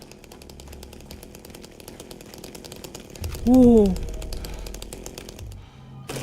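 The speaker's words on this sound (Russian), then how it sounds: "Ой, я слышу бензопилу." A chainsaw buzzes in the Silent Hill 2 remake video game, a continuous rasping drone running throughout, with a short exclaimed voice partway through.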